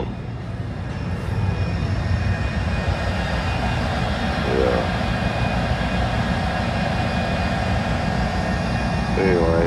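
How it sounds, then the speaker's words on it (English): A boat's engines rumble steadily and low while it waits at anchor with a line of other vessels, a continuous drone running the whole time beneath a brief spoken word. "You can hear those engines just rumble."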